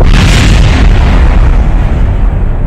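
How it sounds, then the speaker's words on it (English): A rocket explosion sound effect in a Kerbal Space Program audio drama, a loud deep boom with a heavy low-end roar that rumbles on and slowly decays, alone without voices. "I told you the explosion was pretty"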